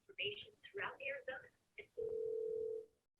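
Several short electronic beeps of a phone keypad, then a steady dial tone holding for about a second, close and clear, with quiet talk at the start.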